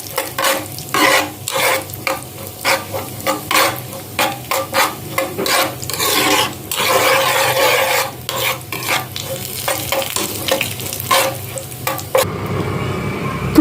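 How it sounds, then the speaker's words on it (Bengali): Chopped nuts roast in ghee for rava laddu with a loud, continuous sizzle, broken by repeated scraping strokes of a spoon stirring them around the pan. Near the end the frying settles into a quieter hiss. "একটু রোস্ট করে নেবো ঘিতে।"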